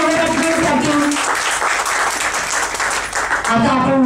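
Audience applause at a state-level Marathi poetry gathering, a dense burst of clapping filling the hall at steady loudness, with a voice speaking over the start and again near the end.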